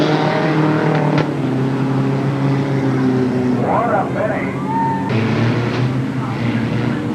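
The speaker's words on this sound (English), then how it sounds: "Also Sis Smith winning the 4th of 6 heat races with the mini stocks at Creek County Speedway." Mini stock race cars roar through a heat race at Creek County Speedway, Oklahoma, in 1991. The loud engine drone rises and falls as cars pass and rev, with a voice talking over the racing noise.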